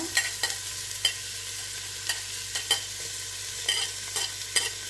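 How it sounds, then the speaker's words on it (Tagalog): Onion and garlic sautéing in olive oil for pork adobo, with a soft steady sizzle and sharp scattered clicks of a utensil stirring the pan at close range. "Igisa natin ang sibuyas at bawang."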